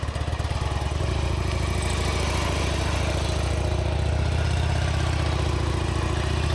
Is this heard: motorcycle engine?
yes